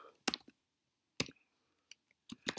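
Typing on a computer keyboard while writing Discord.js bot code, a few sparse clusters of sharp close key clicks separated by short silences, quiet and without talk.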